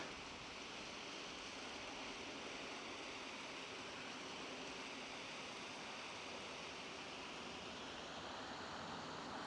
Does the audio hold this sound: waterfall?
yes